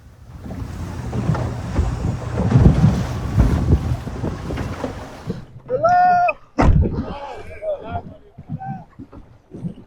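On the rough Mediterranean, a migrant boat is battered by roaring wind and churning waves, then the blustering gives way to voices calling out near the end.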